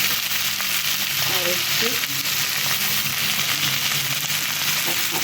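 Meat sizzling and frying steadily in a pan with chilli powder while being stirred, a constant hiss with occasional scraping, and a voice speaking briefly over it.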